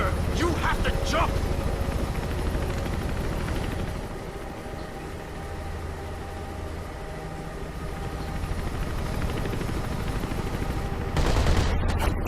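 Rapid machine gun fire from the video game Mirror's Edge, bursts of automatic shots rattling over a rumbling engine or helicopter drone, with a louder burst flaring near the end.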